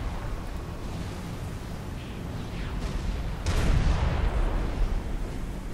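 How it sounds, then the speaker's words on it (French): Naval cannon fire in Supreme Commander, heard as a steady low rumble of distant booms that swells into a louder, denser barrage partway through, with no voices. "Tourner le navire de telle sorte que tous les canons puissent tirer."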